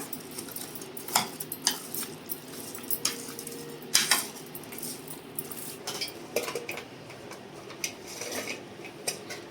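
A spoon clinks and scrapes against a metal pot while chicken is stirred with turmeric, in irregular light taps and rattles, fairly close and quiet, with no voices.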